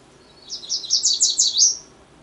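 A bright, high yellow warbler song of quick repeated sweet notes, rising in a short rolling phrase, clear and fairly close with no other sound.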